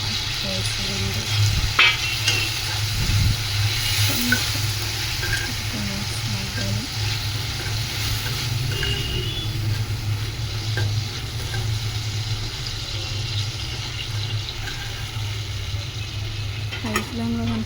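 Coriander chutney ingredients fry with a steady sizzle in a pan over medium flame while being stirred, with occasional scrapes and clinks under a constant close frying hiss.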